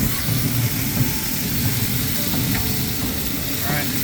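Steady close sizzle of a turkey cooking on a pellet grill at 350 degrees as it gets flipped over, a continuous crackling hiss with a few faint clunks and no talking.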